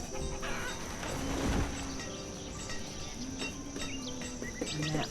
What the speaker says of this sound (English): All right, now we can get some chickens.